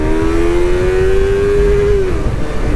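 An upgraded race-engine Yamaha R3 motorcycle revs hard toward 13,000 RPM, a loud close rising engine whine that climbs steadily, then drops off as the throttle closes.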